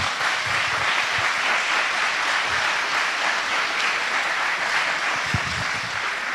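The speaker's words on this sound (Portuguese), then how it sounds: "Give them a round of applause." A congregation at a church service breaks into loud, dense, continuous applause, many hands clapping together without pause and no voice over it.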